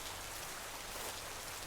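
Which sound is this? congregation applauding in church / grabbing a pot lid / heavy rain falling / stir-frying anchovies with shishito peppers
heavy rain falling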